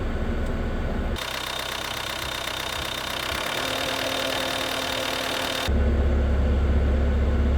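Car engine running near idle while an electronic stepper motor idle adjuster works, a loud steady rumble that shifts pitch and intensity partway, settling into a deeper, heavier idle.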